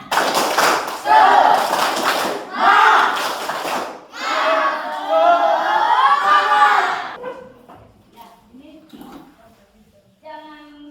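A class of junior high students performs a rhythmic spirit clap, sharp group claps in patterned bursts mixed with loud chanting voices, then fading into quieter scattered sounds.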